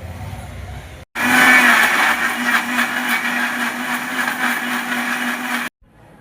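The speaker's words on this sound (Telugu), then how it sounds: "టమాటాలు మిక్సీ పెట్టుకుంటున్నామండి" A mixer grinder blending tomatoes whirs loudly for several seconds with a steady high-pitched motor drone, starting and stopping abruptly, with quiet background before and after.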